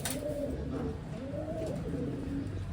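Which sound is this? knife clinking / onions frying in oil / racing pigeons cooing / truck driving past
racing pigeons cooing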